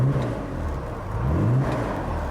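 Classic Ford Zodiac estate car engine running close by, a steady low idle that rises briefly in a mild rev before settling, with no talking over it.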